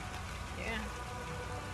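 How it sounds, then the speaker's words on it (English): Steady in-game rain hissing across the whole stretch during a Valheim fight against the Bonemass boss, acid rain falling constantly as a dense wash with speech-like sounds mixed in. "It's acid rain."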